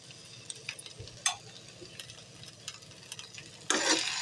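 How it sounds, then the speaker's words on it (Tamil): Okra sautéing in a pan, half wilted, with faint sizzling and scattered light stirring clicks, then a louder sizzling scrape near the end. "வெண்டைக்காய் வந்து பாதி வதங்கிடுச்சு"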